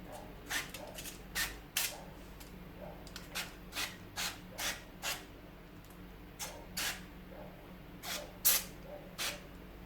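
Short hissing bursts from an extra virgin olive oil spray nozzle onto raw chicken repeat about a dozen times in an irregular rhythm, close up, over a quiet low background hum.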